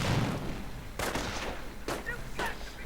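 Sniper rifle fire in a real-time strategy video game, sharp cracks spaced about a second apart over background battle noise, with a commentator talking underneath.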